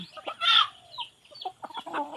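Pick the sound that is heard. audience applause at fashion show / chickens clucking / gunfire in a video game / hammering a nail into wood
chickens clucking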